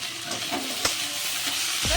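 Ground cumin, turmeric and red chili powder fry together in a pan for a fish-head and greens dish, giving a steady close sizzle with soft stirring scrapes and one brief clink.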